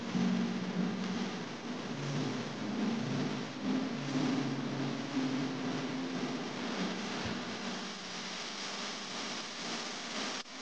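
A boat engine is being tested, giving a steady, loud mechanical drone that holds almost unchanged throughout and eases off slightly near the end.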